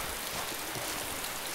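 Rain in the video game DayZ: a steady, even hiss of rainfall filling the whole moment with no distinct drops or pauses, fairly quiet and without talk.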